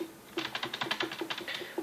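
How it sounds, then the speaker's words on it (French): A computer keyboard being typed on in quick, irregular bursts of clicky keystrokes, close and fairly quiet, with no voices over it. "excusez-moi pour si vous entendez le clavier"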